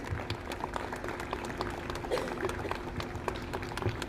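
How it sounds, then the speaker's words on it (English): A school audience at a Republic Day event gives applause for the parents, a dense, continuous patter of many clapping hands that holds steady throughout at moderate distance. "one big round of applause for my parents."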